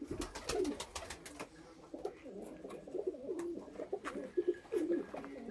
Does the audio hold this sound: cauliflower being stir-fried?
no